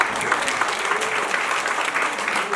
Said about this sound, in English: So please have a big round of applause.